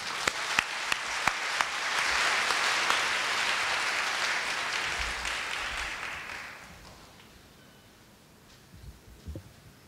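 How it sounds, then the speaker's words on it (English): An audience at the Korea University 2016 ISC opening ceremony applauds to welcome a professor. A few sharp early claps swell into a full, sustained round that tapers away, leaving near quiet. "Let's welcome Professor Lancaster with a round of applause"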